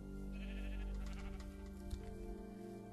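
Several wavering sheep bleats from Minecraft, fairly close and clear, repeating over a few seconds with no talk.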